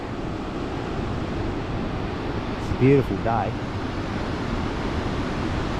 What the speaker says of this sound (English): there are waves here, but there's no decent breaks